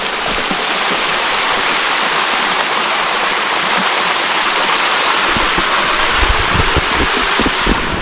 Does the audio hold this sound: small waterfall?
yes